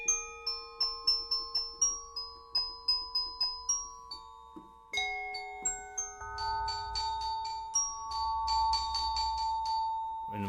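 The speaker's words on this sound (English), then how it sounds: "Chinese chimes, wood mallet with the soft." Bright metallic Chinese chimes struck one at a time with a soft wood mallet in a falling then rising pattern, each note ringing and decaying, later layered into denser overlapping tones.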